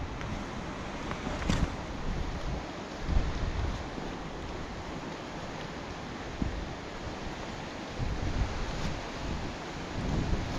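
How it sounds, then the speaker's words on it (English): Wind and rain gust across an exposed, wet path leading to Gayle Force waterfall, a dense, steady roar with rough buffeting swells and no talking. "every now and again I get a blast of wind and rain just like that."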